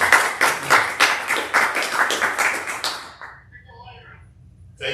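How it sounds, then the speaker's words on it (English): A Rotary Club audience claps for a speaker in a fairly even, rhythmic pattern for about three seconds, then it stops abruptly, leaving quiet room sound with faint talk. "let's go ahead and give him a round of applause for his talk"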